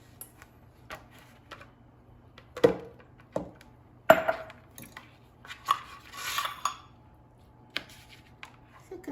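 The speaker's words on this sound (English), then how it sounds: "And now I'm going to chop those cherries into pieces and add them to the cookie dough." Knife chopping cherries on a board for cherry cookie dough, a handful of sharp, separate taps spread unevenly through a quiet kitchen, with no speech.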